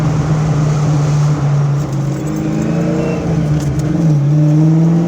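A 1988 Ford Mustang GT pulls hard in second gear, its V8 engine note rising steadily under load, loud and close from inside, with a brief dip and recovery as revs climb.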